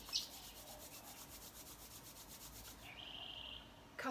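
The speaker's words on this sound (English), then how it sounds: "Rubbing the hands together." Hands rubbing briskly together during a yoga session, a soft rhythmic swishing friction repeated in quick strokes, faint and close, shifting to a smoother rub near the end.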